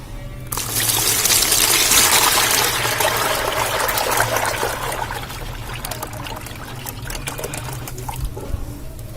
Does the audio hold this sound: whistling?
no